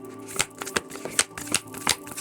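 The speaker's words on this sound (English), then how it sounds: "I love these cards, but they can kind of be a pain to shuffle." Tarot cards being shuffled by hand, a close, steady run of soft riffling slaps and flicks repeating every few tenths of a second.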